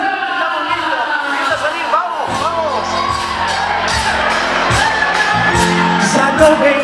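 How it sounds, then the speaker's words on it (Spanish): A festival crowd at the national and international Yerba Mate festival in Apóstoles cheers, whoops and applauds, loud and continuous, with a presenter's voice and shouts over the noise. "quiero que lo recibamos con un fuerte aplauso al señor Roberto"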